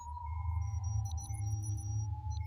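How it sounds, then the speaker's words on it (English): A sustained electronic ping tone holds steady over a low rumbling drone, with faint higher beeps flickering above it. "The sound of a digital ping indicates that the humans are closer than they ever were before."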